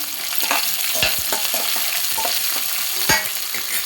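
Semiya upma with chopped onions, cumin and mustard seeds stirred in a pan, a loud sizzle with repeated quick spatula scrapes and knocks close by.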